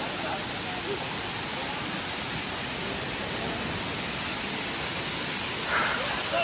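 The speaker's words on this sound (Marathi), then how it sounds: "लय फोर्स इकडे पाणीचा. ओरिजिनल धबधबा बघू शकतात." A monsoon waterfall on the Bhimashankar trek gives off a steady, full rushing roar of falling water that fills the whole clip without a break, close and loud.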